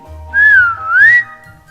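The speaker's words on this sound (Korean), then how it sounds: "티모시 아빠가 부는 호루라기 소리를 들었어요." A single warbling whistle, close and clear, rising and falling in pitch over about a second, with a low hum underneath.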